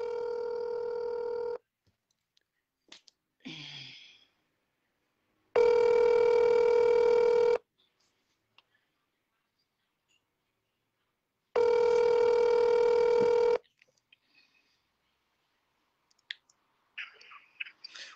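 Phone ringing with incoming calls: three separate bursts of loud electronic ringtone, each about two seconds long, separated by silences with a few faint clicks and handling noises.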